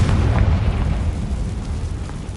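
A Confringo blasting spell explodes in Hogwarts Legacy, a loud, heavy boom with a deep rumbling tail that slowly decays over a couple of seconds.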